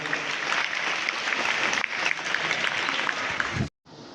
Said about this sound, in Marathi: जोरदार टाळ्या आपण सर्व मान्यवरांचं स्वागत करूया